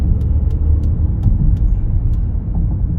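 A 2023 Audi A6 S line Premium accelerates hard at full throttle in 5th gear, its engine sending out a steady, loud, low rumble under the cabin. The drone holds constant throughout, with faint ticking clicks above it and no voices.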